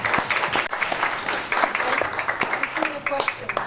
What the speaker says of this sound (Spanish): yo quisiera que aplaudamos por esto